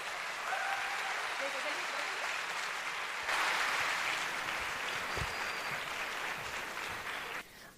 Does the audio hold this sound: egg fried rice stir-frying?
no